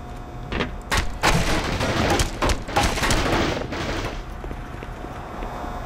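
A grenade blast in the Black Mesa game, a few heavy booming bursts rising to a loud peak in the middle and then trailing off into a quieter rumbling tail, with no talk.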